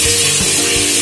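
Spice paste of onion, ginger, garlic and green chili hitting hot mustard oil in a pan, giving a steady close sizzle throughout with a few soft stirring scrapes and no talk.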